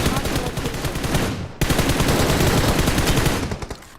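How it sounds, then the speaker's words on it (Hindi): Rapid automatic gunfire from a battle royale video game rattles out in loud, dense bursts, with a brief break partway through before the firing resumes and then tails off. "गोली चलाता है, बैरल चला रहा है वो"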